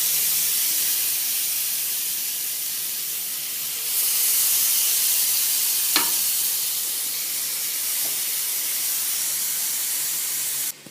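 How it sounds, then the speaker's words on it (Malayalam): Chicken tikka pieces sizzle in a hot oiled pan with a steady, close hiss that swells as more pieces go in, then holds, with a couple of sharp clinks and no talking. "പാന് ചൂടായി കഴിഞ്ഞാൽ നമ്മൾ എടുത്ത് വെച്ചിരിക്കുന്ന ടിക്ക ഓരോന്നായിട്ട് വെച്ച് കൊടുക്കുക."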